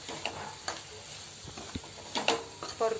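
Potato sabzi stir-fried in a pan, a spoon scraping and clinking against the metal in a few distinct strokes over a steady sizzle, close and moderately loud with no talking.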